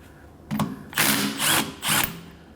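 Power tool spinning a 19mm socket to remove a nut on a 2011-2016 Kia Optima rear sway bar link, heard as several short broadband whirring bursts close by, with no talk.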